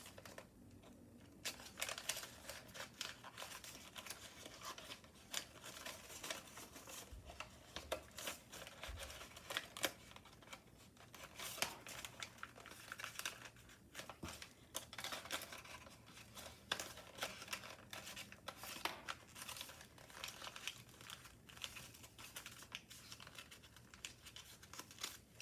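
Paper crinkling and crumpling in steady small bursts as it is squash folded for an origami aircraft carrier, close and fairly quiet, with no talk.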